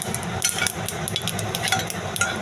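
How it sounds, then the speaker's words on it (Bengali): Curry leaves, mustard seeds and chilli fry in a pan of oil for a besan curry, giving a steady close sizzle broken by scraping stir strokes and light utensil knocks. "দেখুন কারি পাতা আর সর্ষেটা ভালো ভাজা হয়ে যাচ্ছে"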